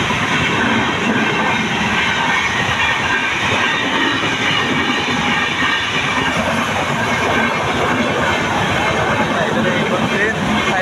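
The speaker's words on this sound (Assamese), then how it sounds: "ট্ৰেইন আহি পেলাই" A train passes a railway level crossing with the gate down: a loud, close, continuous rumble with rhythmic wheel clatter that fills the whole stretch without a break.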